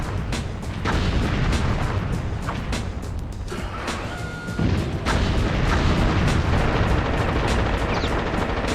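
Grenade explosions in the PS2 video game Rogue Ops, loud booming blasts that fill the scene continuously, with a sharp burst around the middle and dense rumbling throughout.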